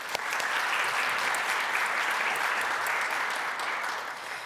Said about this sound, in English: let's have a round of applause nonetheless